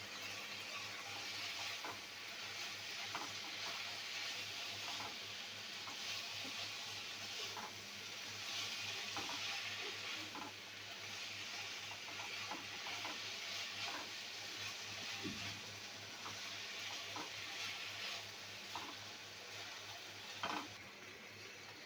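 Chinese noodles stir-fried in a pan, a quiet steady sizzle with faint scraping stirring clicks scattered throughout, close and without voices.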